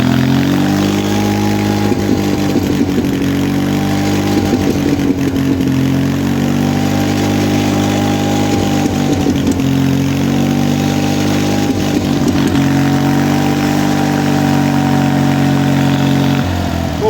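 A small petrol GAB 4T generator engine, still cold, runs steadily at a low idle, its even mechanical chug close by and continuous throughout.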